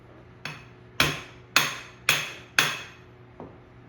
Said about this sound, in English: I think you just hammer it out this way.